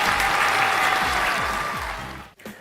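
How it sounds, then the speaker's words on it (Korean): Children's Sunday school crowd bursts into brisk, continuous applause for about two seconds, bright and fairly close, ending abruptly. "박수!"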